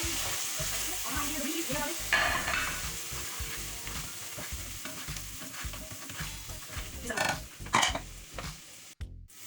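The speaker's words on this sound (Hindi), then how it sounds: "हम इसको फ्राई करेंगे" Onions and green chilies frying in a pan while being stirred, a continuous loud sizzle with repeated spoon scrapes and knocks, close up, a brief sharper hiss toward the end and no talking.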